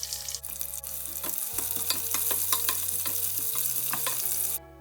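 Steady crackling sizzle of mustard seeds, cumin seeds and onion frying in hot oil, close and continuous, with a low background hum and no voices.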